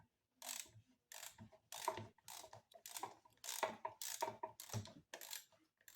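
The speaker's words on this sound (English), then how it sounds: "get a 1/2 inch socket and we'll get started" A ratchet socket wrench working a fastener on a 91-year-old Maytag washing machine engine, heard as close, quick bursts of clicking pawl strokes separated by short pauses.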